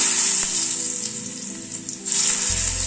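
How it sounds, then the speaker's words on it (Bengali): Boiled potatoes drop into hot white oil in a wok and burst into loud, bright sizzling. The frying holds steady, dips briefly, then swells again near the end. "তেলটা গরম হয়ে গিয়েছে, আলুটাকে ছেড়ে দিচ্ছি।"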